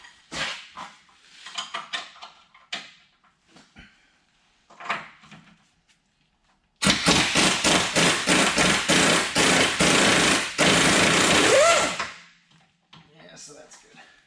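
Nuts being removed from the lower control arm bolts of a GMC Sierra 2500HD, with a loud, sustained mechanical rattle running for several seconds after some earlier clanks and taps, and a voice talking at the start.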